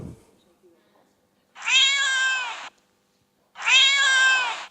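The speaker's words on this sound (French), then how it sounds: "on va essayer avec le dernier miaulement qu'il y avait sur le collier" Two clear, drawn-out cat meows recorded from a collar, each about a second long, separated by a short silence, sounding close and somewhat processed like a playback.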